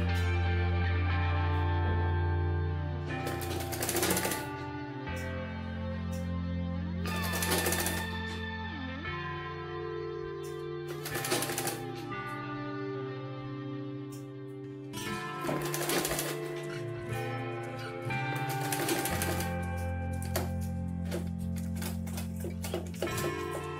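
A sewing machine stitches net ruffles in bursts of rapid mechanical ticking and clattering, separated by short pauses and a steady low motor hum, close up with no talking.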